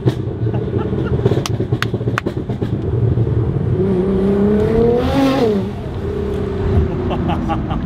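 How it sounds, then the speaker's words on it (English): A Nissan R35 GT-R making over 700 hp on a dyno gives a loud, close engine roar with rising turbo whine. A sharp blow-off hiss bursts as revs drop on the downshift, then the engine drones on. "On downshifts, the turbos spool and the blow-off valves go off."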